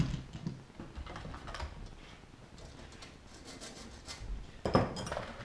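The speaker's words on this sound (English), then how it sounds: "clean off the burr" Hand deburring a freshly drilled rivet hole in a Zigolo wing rib, with close, soft scraping and rubbing strokes in irregular bursts and a sharper clink near the end.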